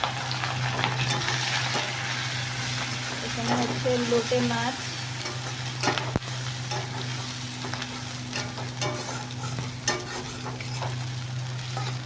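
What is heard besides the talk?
dried lote fish (Bombay duck) frying in oil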